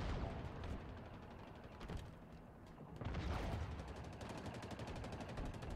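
Vehicle weapons fire from a Wraith tank in the Halo Infinite multiplayer game: loud, dense bursts of booming shots and explosions that keep going across the whole span with no pause.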